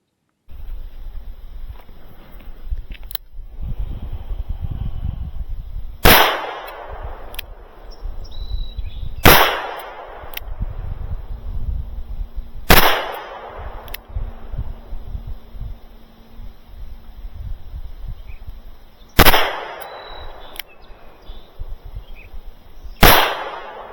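Shots from a Smith & Wesson 360PD revolver and a Manurhin PP pistol at an outdoor range, about six loud, sharp cracks spaced several seconds apart, with quieter rustling and handling noise between them.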